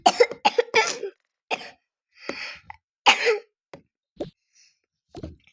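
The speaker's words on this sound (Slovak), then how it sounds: "Vieš prečo kašľam?" A voice coughs several times in short, close bursts with brief pauses and a throat clearing between them, alone without speech.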